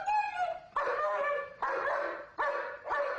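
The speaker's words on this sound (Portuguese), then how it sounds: "Os cães também nos assustam quando começam a latir para o nada." A dog barks four or five times in close succession, each bark loud, near and drawn out into a whiny, yelping tone.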